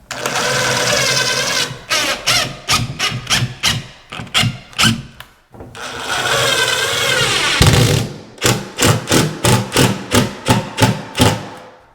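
A power drill drives screws into drywall in loud, close bursts: long whirring runs broken by short, choppy pulses as each screw seats, with no talk.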